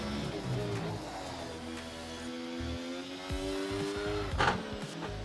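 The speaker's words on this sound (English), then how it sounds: "The two Sauber cars are battling like they're out for a world championship here" Sauber Formula 1 race cars battling in a racing video game: high engine whine rises and falls in pitch over a constant roar, with a brief louder burst near the end.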